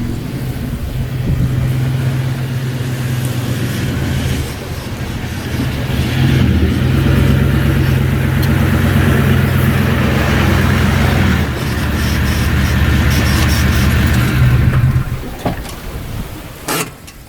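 A car engine drones steadily with low rumble as the vehicle drives along a coastline beach, then slows and pulls up, the engine noise easing off near the end with a few small clunks.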